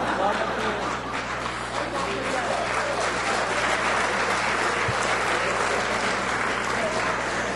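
An audience at a Hindi poetry gathering claps loudly and densely, a steady wash of applause that lasts throughout the clip.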